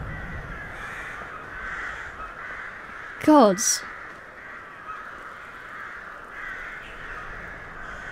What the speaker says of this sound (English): That is so many crows.